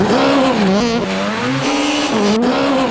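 A Suzuki Swift driven rally-style, its engine note rising and falling loud and close with tire squeal through the turns, with music running underneath.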